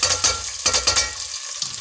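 Onions fry in hot ghee in a pot for dal mash, sizzling loudly and close up, with repeated scraping stirs in an uneven rhythm.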